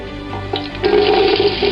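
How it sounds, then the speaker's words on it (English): Chopped red onions go into hot oil covering the bottom of a pan for jollof rice, setting off a loud, steady sizzle that swells and holds after the drop. "to the oil I'm just going to go ahead and add my red onions"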